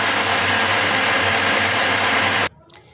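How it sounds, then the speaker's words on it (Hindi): An electric grinder blends a spicy red shawarma sauce, a loud, close, steady motor whir lasting about two and a half seconds before it switches off abruptly into near silence. "अब मैं इसको यहाँ पे ग्राइंड करूँगा"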